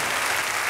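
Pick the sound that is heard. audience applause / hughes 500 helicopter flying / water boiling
audience applause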